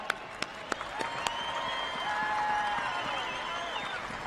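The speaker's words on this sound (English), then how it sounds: "I think everybody here deserves a big round of applause." An audience claps and cheers at the 2016 Bassmaster Classic bass fishing weigh-in, with a few sharp nearby claps followed by sustained crowd applause and whistling in a large venue.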